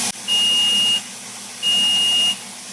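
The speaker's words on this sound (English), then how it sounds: "So the beeping is your warning before it actually shuts down" An ApolloSpray digital paint sprayer gives two long, shrill electronic warning beeps before shutting down, each about a second long, over a steady mechanical hum.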